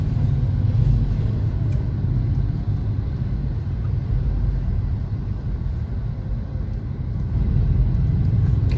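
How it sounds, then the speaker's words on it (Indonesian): Dense evening rush-hour traffic crawls along Frontage Ayani in Surabaya, where many traffic lights stall the flow, making a constant low rumble of engines close by with no clear voices. "Inilah lalu lintas di Frontage Ayani, memang selalu padat ya di sini nih jam-jam pulang kerja."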